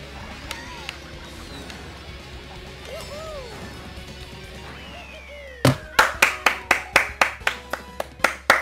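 Applause plays in the Mario Kart 8 video game, a burst of sharp, rhythmic claps arriving after a quieter passage of game sounds and music, fairly loud and spaced at a steady beat.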